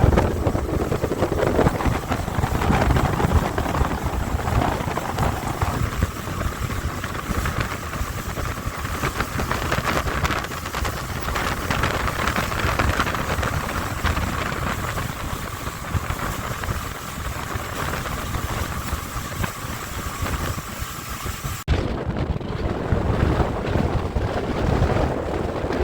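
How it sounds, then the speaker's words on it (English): Fishing boat engine droning steadily as it speeds up toward 30 knots on open water, with broadband rush of hull and water and heavy wind buffeting on the microphone, no talking. "Cranking her up to 30 knots now."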